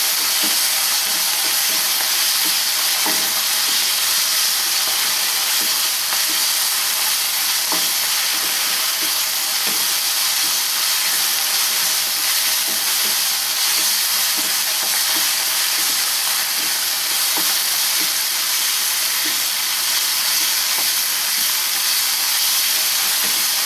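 A palak paneer kofta mixture with chopped coriander fries in a pan, giving a steady, loud hissing sizzle with scattered light crackles throughout.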